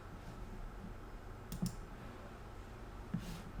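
A couple of faint mouse clicks on a Mac computer while saving an export as PDF, two brief taps about a second and a half apart over a quiet room hum.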